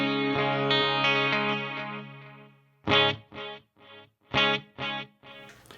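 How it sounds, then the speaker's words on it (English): Electric guitar played through an Axe Fx 3 with a stereo tape delay: a sustained distorted chord with a chorus-like shimmer fades out, then a run of loud, punchy palm-muted stabs with delay trailing after them, no voices. "I've got a stereo tape delay, and I've got it for a tap tempo on the FC6"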